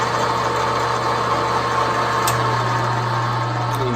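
Machine running a tap in reverse to back it out of a threaded hole, a steady close motor drone with a constant low hum and even whirring, the pitch shifting slightly partway through.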